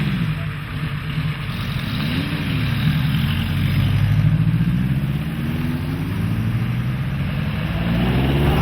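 A Seven Martin sports car accelerating, its engine note loud and steady with a rising rumble, close by and with no voices over it.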